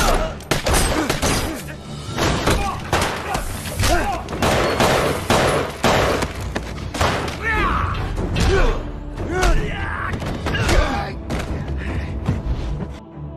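Film gunfire bursts aimed at attackers on a lower floor: dense, loud volleys of shots with mechanical clatter and thuds, continuous throughout a busy action soundtrack.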